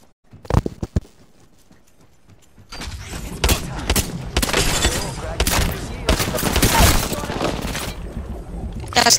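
Gunfire from the Bangalore character in a battle-royale video game, a few sharp early shots, then dense volleys of rapid fire and impacts, with a player's voice speaking over it.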